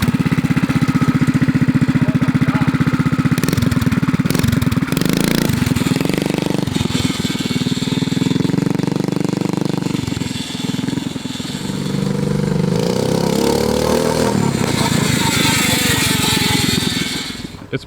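A big-tire motorized bicycle fitted with a reversed small engine buzzes loudly and continuously during a ride, its revs rising and dipping as it moves, with occasional voices underneath.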